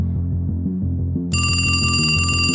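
A telephone rings out suddenly partway through, a bright repeating electronic ring that stays loud and steady over a low pulsing horror-story music bed.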